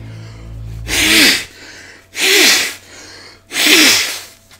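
Three loud sneezes come in a row about a second apart, each a sharp close burst with a breathy intake, with no talk.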